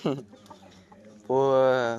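A backyard hen that has just laid an egg gives a short call, then a loud, drawn-out squawk close by, with quieter rustling in between.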